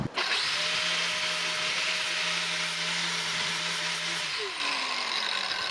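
An angle grinder works steadily on a crash-damaged RZR side-by-side frame, a loud continuous high whine held for several seconds that drops in pitch near the end, close up.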